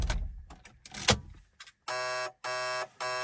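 A BMW Z3 roadster's headlights-left-on warning chime sounds after the engine is switched off: three loud, steady electronic tones, each about half a second long with short gaps between them, following some brief handling noises.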